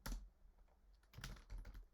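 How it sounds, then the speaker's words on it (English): Keystrokes on a computer keyboard as the command make data is typed, a quick burst of clicks followed by a further cluster of taps, close and fairly quiet with no talking. "we type make data"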